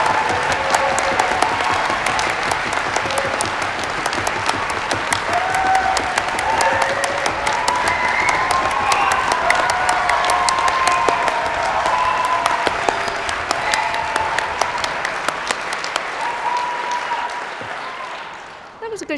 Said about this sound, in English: give everyone who has successfully completed their awards and their tutors and professional services colleagues an absolutely huge round of applause